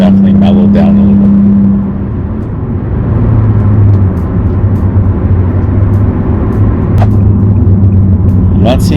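Nissan 370Z with added sound deadening cruising on the road, a steady muffled engine drone and road rumble filling the cabin, with a held engine note near the start.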